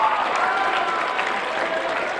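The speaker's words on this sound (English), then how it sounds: "Give them a round of applause." Applause from an audience at a motivational talk, a continuous, fairly loud patter of many hands clapping at an even level from start to finish.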